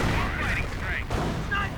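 Anti-tank gun and sniper fire in a World War II strategy game, with a Sherman tank under attack: a continuous loud wash of battle noise and gunfire under a commentator's voice.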